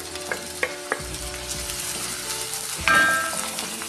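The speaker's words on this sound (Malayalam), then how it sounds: "അതിലേക്ക് സവോള ഇട്ട് ഒന്ന് വഴറ്റാം ചെറുതായിട്ട്." Sliced onions sautéing in hot oil in a pan, a steady close sizzle with a few sharp spits and clatters of stirring, louder briefly near the end.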